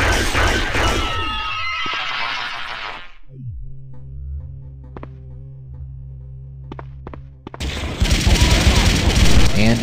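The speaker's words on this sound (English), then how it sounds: "this fanatic just fired the napalm launcher twice" A napalm launcher fires in the shooter game Blood II, with two heavy, roaring blasts: one at the start and one near the end. Between them is a quieter stretch of humming game ambience and scattered clicks.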